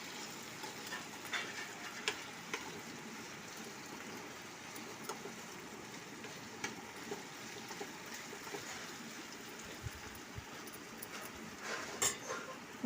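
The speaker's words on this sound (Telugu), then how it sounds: "స్టవ్ సిమ్లో ఉండాలి కడాయి మీద మూత ఉండాలి కొంచెం సేపు మగ్గాలి" Spring onions and tomato simmer gently in a covered kadai over low heat, giving a faint, steady bubbling sizzle with occasional soft ticks and clicks and no talking.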